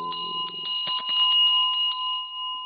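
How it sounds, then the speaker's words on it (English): A handheld ritual bell used in Vajrasattva Ngöndro practice rings clearly, struck several times in quick succession, its bright metallic tone sustaining and fading, with a low chant trailing off at the start. "So if you have the bell, you ring the bell."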